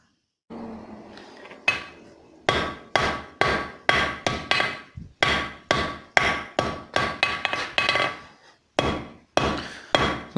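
Rhythmic, loud hammer blows ring out on hot steel as a cross-peen hammer spreads a fluxed railroad spike being forged into a tomahawk, with a few seconds of forge roar before the steady strikes begin and brief pauses between runs of blows.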